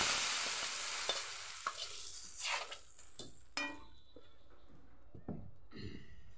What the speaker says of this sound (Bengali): রসুন আর পেঁয়াজ দিয়ে দিলাম। বাগার হয়ে গেছে, বাগারটা দিয়ে দিলাম।